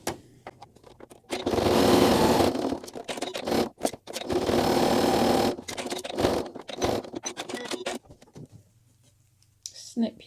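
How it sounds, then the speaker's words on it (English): A sewing machine topstitches 3 mm from the edge around a fabric strap for a hand sanitizer pouch, running in two steady bursts with short pauses, interspersed with fabric rustling and scraping handling noises. "now I'm just going to top stitch 3mm or 1/8 of an inch all the way around the whole thing"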